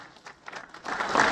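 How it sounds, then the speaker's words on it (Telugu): Applause from an audience at an OBC leader's political speech builds from scattered claps into a louder, steady wash of clapping over about a second, with no voices clearly standing out. "గట్టిగా చప్పట్లు కొడితే ఇది పార్లమెంట్ వినపడుతుంది, ఢిల్లీకి వినపడుతుంది."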